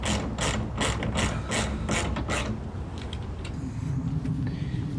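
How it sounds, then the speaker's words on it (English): A ratcheting wrench loosens 10 mm bolts on a fifth-generation Toyota 4Runner during a rear cabin filter replacement, giving a close, rapid run of metallic pawl clicks in quick bursts, followed by softer clicking and rubbing. "I usually undo those with just a ratcheting wrench"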